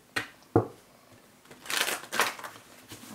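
Playing cards are riffled and shuffled in a few quick, crisp bursts, close up and fairly quiet.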